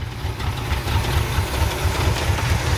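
A Ford F-250 pickup, left abandoned for 21 years, runs with its engine revved under added throttle, giving a loud, steady, close rumble with a rhythmic low knocking pulse and no talk.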